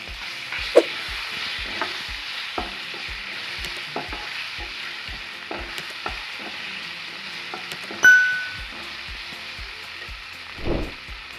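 Ground spices and chopped tomato frying in a pan for chole, a steady sizzle under regular scraping strokes of a spoon, with a louder clatter near the end.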